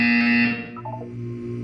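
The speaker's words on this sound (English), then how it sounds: "You will hear a buzzer." A buzzer from the video game Portal 2 sounds as a loud, steady electronic tone, then fades into softer ringing tones within under two seconds, with no voices.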